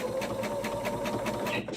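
Sewing machine stitching binding onto a table runner, a close, steady rapid whir of needle strokes running continuously, then stopping abruptly at the end.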